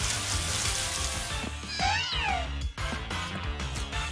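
A Meowth cry in Pokémon Sword: a cat-like meow with rising and falling tones, loud and close, over continuous game music.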